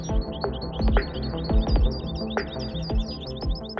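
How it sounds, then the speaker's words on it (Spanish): Wild finches sing in bright, rapid chirps and trills from several birds overlapping, close and clear. "Disfrutaremos con los cantos de estos ejemplares de fringílidos"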